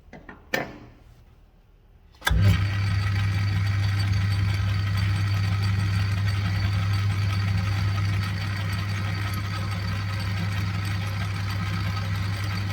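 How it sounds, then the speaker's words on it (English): A metal lathe machining aluminium powers up after a click and a few seconds of quiet, then runs with a steady loud motor hum and whine while taking face cuts. "And we just keep taking face cuts"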